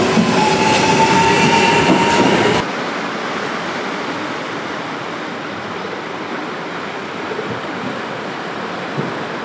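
A train rumbles loudly for a few seconds at a station platform in Riomaggiore, Cinque Terre, Italy, then fades into a steady, softer rolling roar that continues without voices.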